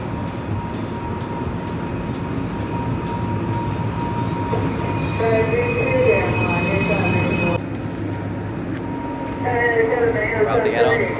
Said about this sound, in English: think the train should be coming from this way.